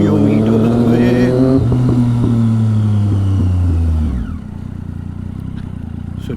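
Motorcycle engine idling loudly close by as the rider arrives home, a steady low drone that drops off abruptly when it shuts down, leaving a quieter background; a voice talks over it.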